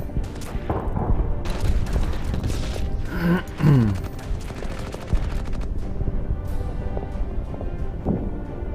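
Gunfire on a bunker in the WWII strategy game Order of Battle, set on Guam with US Marines: a dense, continuous fusillade of rifle and machine-gun shots with heavier booms mixed in, loud and sustained throughout.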